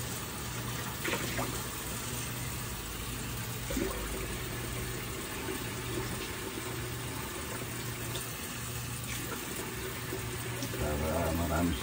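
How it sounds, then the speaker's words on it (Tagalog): A little water poured into a simmering sauce in a home kitchen gives a steady, soft splashing pour under a low background hum, with a slight swell toward the end. "Tapos lagyan natin ng konting tubig."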